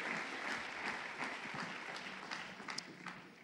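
A church congregation applauds after a sermon, with dense, sustained clapping that fills the room evenly and steadily throughout, with no voices above it.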